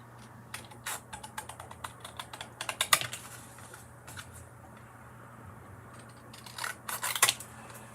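Scissors cutting out a stamped paper image, snipping up to the line: close, crisp clicks and snips in uneven clusters, quieter stretches between, with a louder flurry of cuts near the end and no talk.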